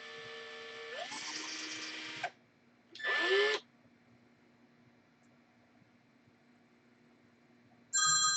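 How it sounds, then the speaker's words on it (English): A telephone rings with an electronic tone, two bursts a short pause apart, then a third starting after several seconds of quiet room hum. "Somebody's on the phone."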